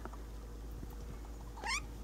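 A house cat lets out one short rising meow near the end, faint against a steady low indoor hum.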